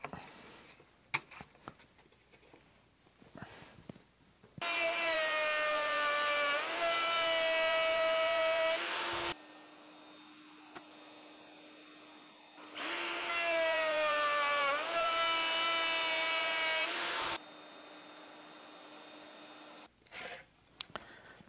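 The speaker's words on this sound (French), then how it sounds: "il n'y a plus qu'à défoncer les rainures en V à la chaîne" A handheld router cuts V grooves in wood for a dovetail jig, whining loud and close in two sustained passes of several seconds each, separated by quiet handling and knocks.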